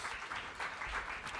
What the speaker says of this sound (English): Give the city of Los Angeles a big round of applause.